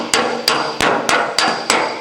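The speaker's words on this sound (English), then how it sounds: "Now that's just a general planishing" A hammer planishing a dented aluminum auto body panel strikes six sharp, ringing metallic blows at a steady rhythm about a third of a second apart, close and loud with no talking.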